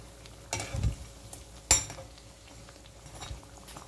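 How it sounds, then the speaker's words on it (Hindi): A snack made from wheat flour deep-fries in hot oil until crisp. The sizzle is quiet and low, broken by a couple of sharp clinks and scrapes from stirring in the pan. No one speaks. "तो बहुत ही अच्छे से क्रिस्पी होने तक फ्राई करना है"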